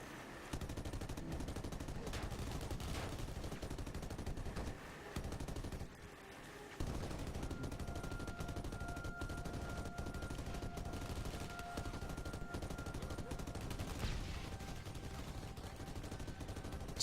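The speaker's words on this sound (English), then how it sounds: "Yeah, mounted gun." Mounted gun firing in the video game Blackwater, a dense continuous burst of automatic fire filling nearly the whole stretch with only a brief dip, steady and loud throughout.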